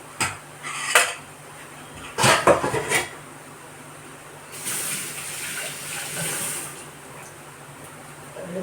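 A metal cooking pan clanks sharply several times while kara boondi is fried in a kitchen. A softer sizzling hiss follows for a few seconds, with quiet gaps between the knocks.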